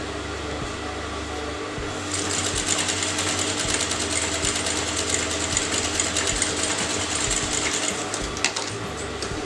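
A sewing machine stitches a canvas neckline in fabric, running steadily and close with a fast, even needle chatter that picks up slightly after the first couple of seconds, with no voices.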